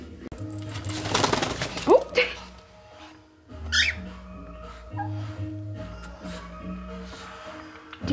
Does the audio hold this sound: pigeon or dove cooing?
yes